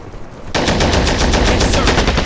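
Machine gun fire in the World War II strategy game Men of War Origins, set in Tunisia: after a brief lull a loud, continuous burst of rapid automatic gunfire fills the rest of the short moment.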